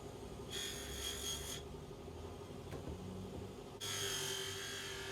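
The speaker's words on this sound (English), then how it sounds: "give it a good buff up on my vintage buffer" A vintage buffing wheel, charged with buffing soap, polishes an aluminium expansion chamber from a Kawasaki KDX200A, making two bursts of bright, close rubbing whir separated by a quieter pause over a low motor hum.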